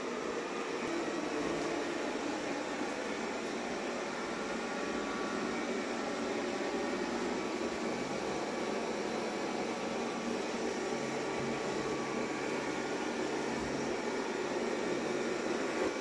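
Xiaomi Mi Robot Vacuum-Mop Essential in turbo mode, a steady, loud broadband whir with a constant fan drone that holds unchanged throughout.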